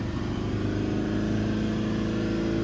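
A Mercedes Vito diesel van engine held at a raised, steady idle during DPF regeneration, giving a continuous close rumble with no talk.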